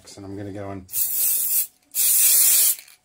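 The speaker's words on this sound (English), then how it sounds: "give it a bit of a spray" An aerosol can sprays onto a wax casting setup for brass in two loud hissing bursts, each lasting under a second, after someone speaks briefly.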